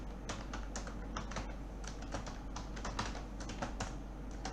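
Typing on a computer keyboard while writing HTML: a quick, uneven run of soft key clicks and taps, close and steady over a low background hum, with no talking.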